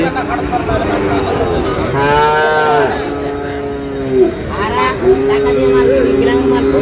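Sahiwal breed cattle at a busy livestock market in Dinajpur give several long, drawn-out moos, close and loud, amid people talking and general market noise.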